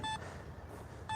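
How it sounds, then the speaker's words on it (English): A metal detector sounds two short, high electronic beeps, one at the very start and one at the end, separated by about a second of low rumbling background, close and moderately loud. "right now I'm just hearing a beep"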